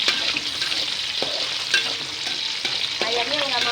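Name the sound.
sautéing blended spice paste in oil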